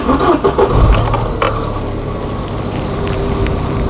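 A Mk3 Cavalier's engine cranks and catches, then settles into a steady, smooth idle close by, with a brief metallic jingle at the start.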